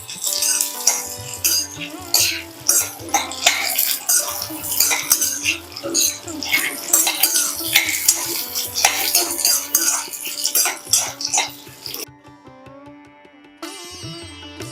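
Cashews, almonds, raisins and roasted gram dal rattle and scrape as they are stirred in a pan for red poha chivda, a busy, close clatter of dry nuts and spoon on metal that fades to quieter taps toward the end.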